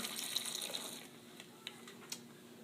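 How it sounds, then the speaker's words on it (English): Water is poured into a bag in a steady, close splashing stream that trickles off in the last second or so, with no one speaking. "you'll just go ahead and pour water in there"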